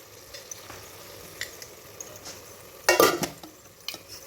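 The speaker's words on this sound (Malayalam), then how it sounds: "ഇത് നന്നായി ഒന്ന് ഇളക്കുക. ആ എണ്ണയിലെ മുളക് പൊടി ഒന്ന് നല്ല മിക്സ്ഡായിട്ട് വരണം." Chili powder being stirred into hot oil for a spicy beef curry, a soft low sizzle with scattered spoon taps and one sharp loud scrape of utensil against the pan.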